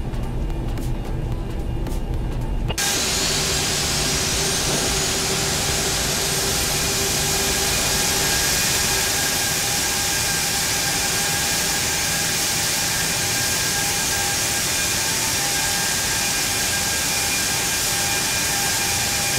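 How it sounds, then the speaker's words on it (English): Airbus A340-600 jet engines spooling up in X-Plane 11, a steady loud roar with rising whine and broadband hiss that builds suddenly and holds continuously. "The two engines started up."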